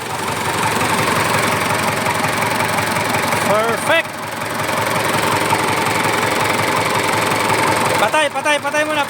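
A Mitsubishi Canter truck's 4M51 diesel engine runs with a loud, steady knocking rumble, dips briefly and picks up again, while people talk nearby.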